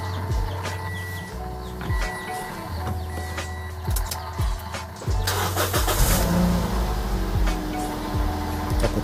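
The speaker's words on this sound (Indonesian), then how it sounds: "dengan memutar setir ke kiri atau ke kanan dengan kondisi mesin menyala" A Toyota Vios ex-taxi engine runs and revs nearby while the steering is turned left and right, with several short knocks and a louder engine swell in the second half.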